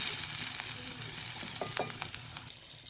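Spiced masala sizzles steadily in a little oil in a pan while a spoon stirs it, giving a continuous close frying hiss with a few soft scrapes and taps and no voices.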